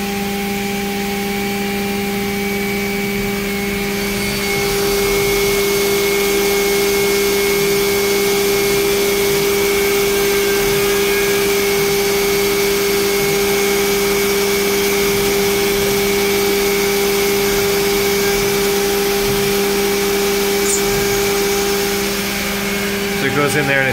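Mori Seiki CNC mill chamfers the top and bottom of a hole with a double chamfer mill, giving a loud, continuous whine with steady tones over a constant hiss that grows stronger after a few seconds and runs throughout.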